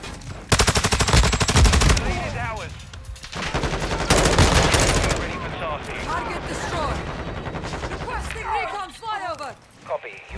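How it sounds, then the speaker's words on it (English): Gunfire in Call of Duty: Modern Warfare II on the Shipment map, with loud, rapid automatic bursts in the first half that give way to scattered shots, while players talk over the action. "They're shooting at somebody else."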